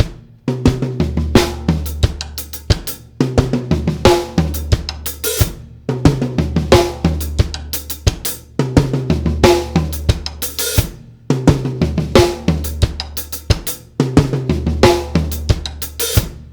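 A drum kit plays a groove pattern, alternating between two one-measure figures: crisp repeated hi-hat and snare hits over kick, loud and close, with brief gaps between phrases.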